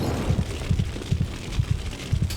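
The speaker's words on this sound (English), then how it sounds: "Because of the heartbeat." Heartbeat warning sound in a monster video game, a steady run of low double thumps repeating roughly every half second, moderately loud and heard alone.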